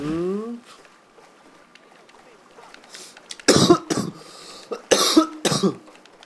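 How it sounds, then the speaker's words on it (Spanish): Coughing fits from a player in GTA IV online free mode, several harsh bursts near the mic in the second half after a quieter stretch, with brief throat clearing. "Me dio mucha tos."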